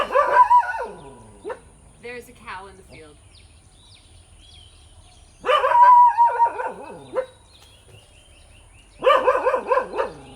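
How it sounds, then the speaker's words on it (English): A feisty dog lets out three loud bursts of warbling growls with harsh, rising yowls, separated by quiet gaps, while a person speaks nearby. "he has this very interesting growl"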